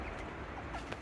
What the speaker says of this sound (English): Naughty chicken.